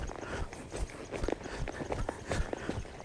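A horse's hooves thud irregularly on the ground during a riding training session, close and uneven, like a quick lope breaking from a slower gait, with no talk over them.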